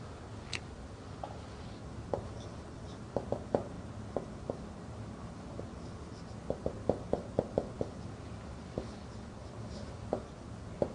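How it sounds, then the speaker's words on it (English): Handwriting on a board or paper during a language lesson: scattered light taps and scratchy strokes, some in quick clusters, close but faint over a quiet room hum, with no speech. "Okay, I will write down."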